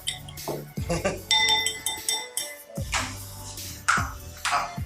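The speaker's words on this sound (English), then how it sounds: "Let's give this a nice whisk." Ingredients whisked in a bowl give bright, rapid metallic clinks and rattles in uneven bursts, close and fairly loud, with a voice speaking intermittently over them.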